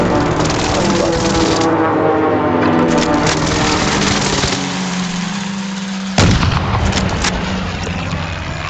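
Gunfire in the Warzone shooter video game, with steady loud battle noise and engine rumble, then a sharp single sniper-like shot cracking out near the end.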